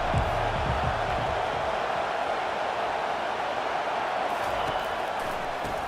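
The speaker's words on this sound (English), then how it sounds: "This crowd bringing an ear-splitting welcome to their visitors" Dense, roaring stadium crowd noise in EA Sports college football, a continuous wash of cheering at steady loud level with no clear breaks, commentary faintly underneath at the start.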